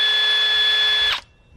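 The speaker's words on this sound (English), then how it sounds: "I got here a drill with this drill bit like that." A power drill fitted with a mixing bit runs at high speed inside a bucket, giving a loud steady whine that cuts off abruptly after about a second, leaving quiet room noise.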